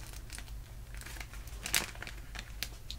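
Squishy food replica toy from Japan squeezed up close, giving soft crinkling, crackly rustles throughout with a sharper crunchy burst midway, heard alone without talk.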